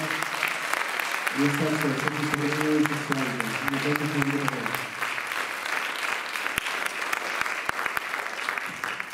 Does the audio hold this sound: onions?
no